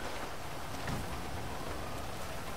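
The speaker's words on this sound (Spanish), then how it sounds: "Está lloviendo." Steady rain falls inside a video game, a dense and even hiss of drops that stays constant and fills the whole scene with no breaks. No voices are heard.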